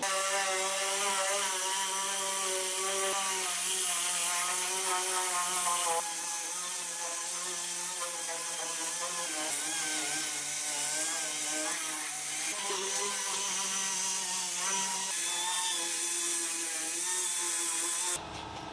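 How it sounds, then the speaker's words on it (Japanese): A steel step panel on a Mazda RX-7 FD3S under restoration is sanded with 120-grit paper. The steady abrasive rasp carries a droning tonal hum that wavers slightly, running continuously up close before cutting off abruptly at the end. "120番のペーパー、これで鉄板全体磨いて細かい傷たくさんつけていきます。"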